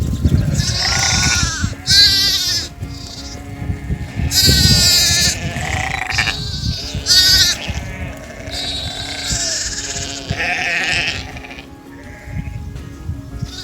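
Sheep and lambs bleat repeatedly inside a barn where ewes without lambs are gathered, with overlapping calls from several animals, some loud and close, over steady shuffling and barn noise.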